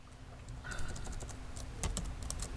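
Fast typing on a computer keyboard, a brisk run of close, crisp key clicks with a few heavier strokes over a faint background hum.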